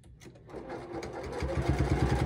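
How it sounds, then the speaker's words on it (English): A sewing machine stitches over a thick toweling hem while making a storage tote. The machine hums softly at first, then settles into a quick, even run of low mechanical pulses that grows steadily louder. "you might have to help your machine get started over that little hump. But most machines should just sew right over that"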